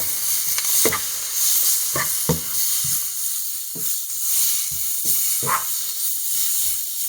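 Beef and peas stir-frying in a hot pan give a steady bright sizzle, broken by scrapes and clacks of stirring at irregular intervals, with no talk.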